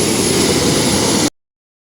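A steady loud roar of an airplane's jet engine during takeoff fills the clip, a constant broadband rush that cuts off abruptly into silence.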